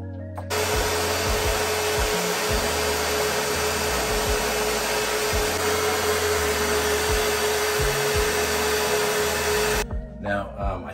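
A hair dryer blowing on hair, starting abruptly and holding one loud, steady whooshing roar for about nine seconds before cutting off.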